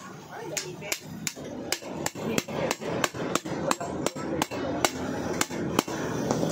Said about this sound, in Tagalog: Pupukin lang natin ang martilyo